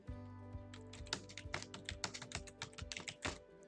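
Quick, close keystrokes on a computer keyboard typing a plugin name into a search box, a steady patter of clicks over a faint background hum, with no speech.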